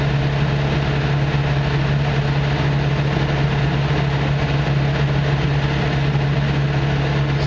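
A Caterpillar D5K2 dozer engine runs at a steady idle with a loud, continuous low drone and a constant hum throughout, with no speech.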